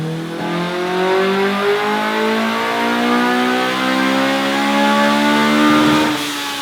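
A VTEC-swapped Mini's engine revs hard on a dyno during a power run, pitch climbing steadily through the gears in a loud, sustained wail that holds close and steady to the end.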